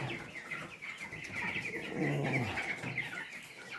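Caged broiler chickens, about twenty days old, cluck and chirp together in a steady close chorus, one bird letting out a longer lower call near the middle.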